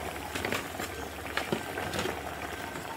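Dinengdeng, an Ilocano vegetable soup with saluyot, boiling in a covered pot: a close, continuous bubbling with small pops and gurgles throughout.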